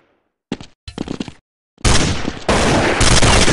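Loud gunfire in Counter-Strike, two short bursts of rapid shots followed by a sustained, dense barrage of close automatic fire.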